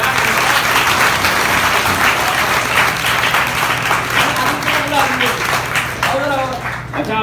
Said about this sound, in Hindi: ले बेटा एक बार तालियां तो बजा दो यार।